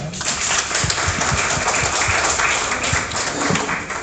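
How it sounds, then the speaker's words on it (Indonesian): Moderate audience applause at a commemorative gathering, a crowd clapping steadily for several seconds in a reverberant room, somewhat muffled and even in level. "Bisa kita beri tepuk tangan?"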